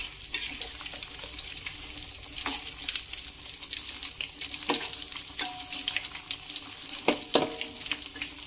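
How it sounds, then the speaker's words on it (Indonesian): Potato and egg stuffed crispy tofu frying in hot oil, a steady close sizzle with crackling pops and occasional clinks of a utensil, no talk. "Goreng hingga kecoklatan."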